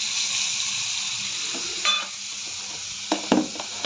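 Coriander paste hits a hot pan and sizzles in a loud, steady hiss. A few scrapes and clinks of a utensil stir it near the end, and no one speaks.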